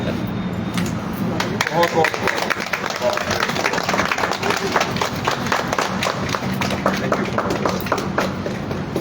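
Loud, steady applause from a crowd at a Vestige business gathering, with dense clapping filling the whole stretch without a break.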